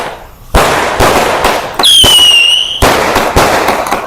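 Hari Raya fireworks at a FELDA settlement, loud repeated booms about every half second with a whistling rocket shriek in the middle, heavy crackling wash throughout, close and dense.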